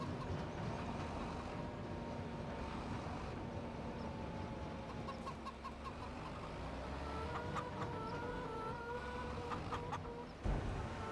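Chickens clucking in the Farming Simulator 25 video game, a steady chorus of soft clucks and calls over a low continuous background drone, with a brief thump near the end.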